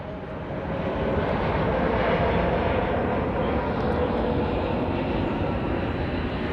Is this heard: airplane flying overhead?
yes